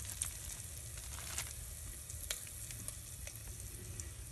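Spam slices fry in a Hungarian army mess kit over an alcohol stove, giving a steady close sizzle with small pops and crackles that carries on throughout, with nobody speaking.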